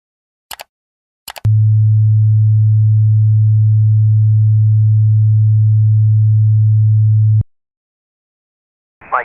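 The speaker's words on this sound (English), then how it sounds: "Let's hear what 108 hertz actually sounds like." A steady, pure 108 hertz sine tone hums low and unwavering for about six seconds, then cuts off abruptly, framed by a few brief clicks before and after.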